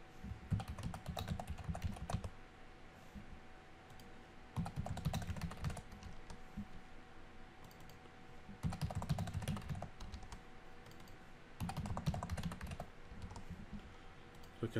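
Login details being typed on a computer keyboard: several bursts of quick, close keystrokes separated by short pauses, quiet and alone.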